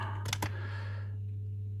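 A few quick keystrokes on a computer keyboard while entering a G-code command into a console for a Robox 3D printer converted to a Duet WiFi board, two or three close clicks early on over a steady low electrical hum.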